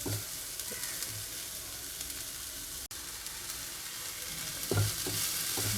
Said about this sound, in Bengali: তেলে দিয়ে ভালো করে নাড়াচাড়া করে এর মধ্যে মশলাগুলো দিয়ে নেব